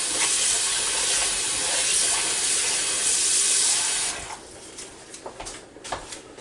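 Tap water running steadily at full force into a kitchen sink over cut-up whole chicken pieces, a loud continuous hiss that cuts off after about four seconds, followed by a few light handling clatters.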